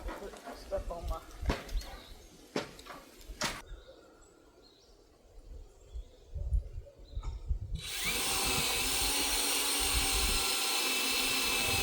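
A power drill drives 1.5-inch screws into two-hole straps outdoors on a high tunnel frame, a loud steady whine holding for several seconds after scattered knocks, clatter and quieter ambient noise.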